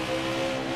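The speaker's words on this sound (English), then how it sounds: "Driving a Chevy Camaro." Chevy Camaro race car engine from NASCAR Heat 5 at Watkins Glen, a steady, loud motor drone with layered harmonic tones held briefly with no talking.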